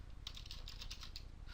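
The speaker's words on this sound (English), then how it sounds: "let's type something in Swedish." Quick, light keystrokes on a computer keyboard tap out a short, fast run of clicks, close and faint in a quiet room.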